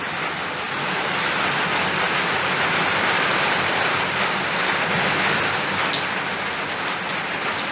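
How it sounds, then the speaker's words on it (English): Heavy rain pours steadily onto a roof at a farm campsite during a thunderstorm, a dense, unbroken roar with no voices. "It's pouring with rain. You can hear it on the roof, I'm sure."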